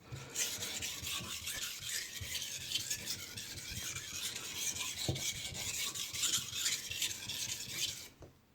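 A kitchen knife is sharpened with repeated close, rhythmic rasping strokes of the blade against an abrasive surface, each stroke a gritty scrape.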